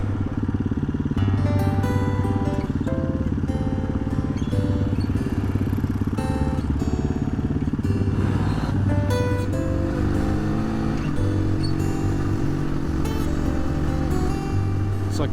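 Adventure dual-sport motorcycles run fast on gravel roads, a steady engine drone with gear changes and clattering loose stones under the tires, continuous and fairly close throughout.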